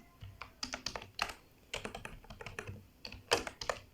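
Quick, uneven keystrokes on a computer keyboard while someone types in Google Docs, close and crisp, in short bursts with brief pauses between words.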